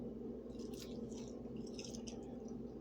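Soft, wet chewing of a fried cucumber, with faint squishy bites and crunches heard close over a quiet background hum and no talk.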